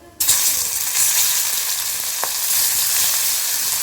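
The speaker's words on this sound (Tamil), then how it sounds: "இதையும் சேர்த்து பொரிச்சுக்கலாம்" Beef kabsa and rice fry in a hot pan, a loud continuous sizzle that starts abruptly and keeps crackling steadily, with a brief clink of a utensil partway through.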